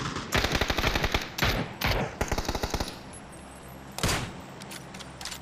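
Automatic gunfire rings out in PUBG: rapid, loud bursts rattle in quick succession, pause, then a single heavier burst follows with a few scattered shots, close and dominant with no talking over it.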